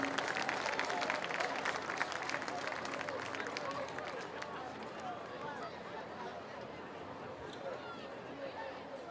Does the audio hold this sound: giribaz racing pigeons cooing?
no